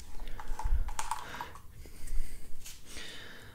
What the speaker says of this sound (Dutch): wat ik daarvoor als oplossing bedacht heb om hem wat moeilijker te maken, is dat ik er gewoon een propje papier in doe